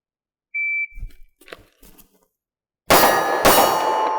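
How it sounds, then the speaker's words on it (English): Two loud, close pistol shots are fired in quick succession from a handgun with a red dot sight. A short electronic beep and faint shuffling come first, then a pause before the two sharp cracks. "So we're going to shoot twice."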